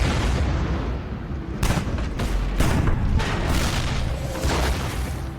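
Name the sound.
Soviet artillery shelling Berlin, sound effect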